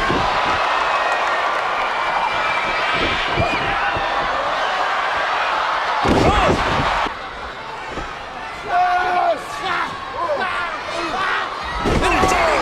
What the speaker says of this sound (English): Crowd is yelling, yes we can, yes we can, in Spanish